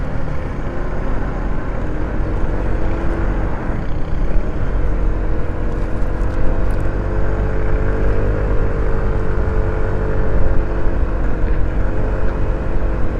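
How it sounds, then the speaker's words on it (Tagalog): An Easy Ride 150P motorcycle climbs an uphill stretch with a continuous, steady engine drone and a faint pitch rise over a long run. "para masubukan natin yung motor sa uphill tsaka downhill ng ating makina, kung kaya ba ng Easy Ride 150p"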